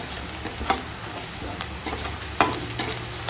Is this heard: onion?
yes